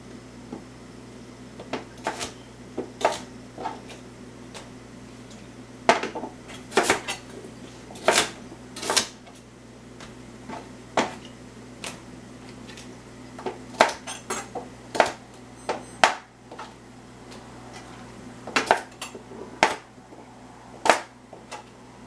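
Rhubarb being chopped on a board, sharp knife thuds landing in uneven bursts, some single and some in quick runs, close and fairly loud over a steady low hum, with no talk.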